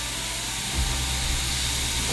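A steak searing in a hot pan, giving a steady broadband hiss that holds constant for the whole moment, with a low rumble underneath and no voices.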